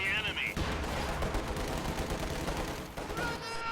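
Katyusha rocket artillery bombarding in a war video game, with a rapid, dense barrage of booming blasts rolling continuously, and a voice talking over the din.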